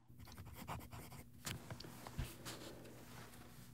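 Scratchy nib strokes from a Laban Mento fountain pen in autumn flake acrylic with a fine, bicolor steel nib, writing on paper in short, quiet, irregular bursts up close.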